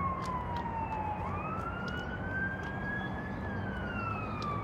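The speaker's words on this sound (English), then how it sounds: "Ambulance." An ambulance siren wails continuously, rising and falling in long sweeps over the steady rumble of road traffic, heard from a wild campsite.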